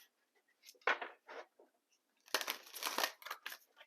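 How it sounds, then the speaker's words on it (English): Crisp papery riffling and slapping of oracle cards being shuffled in quick bursts, close and fairly quiet, with a brief pause between flurries. "I'm going to do one more shuffle."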